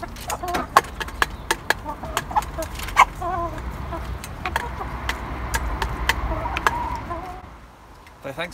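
Hens cluck and chatter at feeding time in a backyard flock, with sharp pecking taps and clicks scattered throughout; a voice talks faintly in the background.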